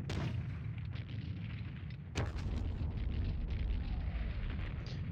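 Mortar explosions in the war video game Squad Battles, a steady deep rumble of distant blasts with a sharp crack at about the two-second mark, no voices.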